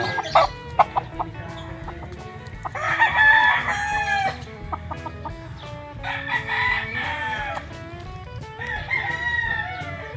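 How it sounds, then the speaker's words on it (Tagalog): Several gamefowl roosters, Golden Boy and sweater crosses, crow loudly one after another at close range, with clucks and scattered farmyard clatter between the calls. "Ang mga lidyada ng manok ni Tatay Pepe dito ay mga Golden Boy crosses at 5K sweater crosses."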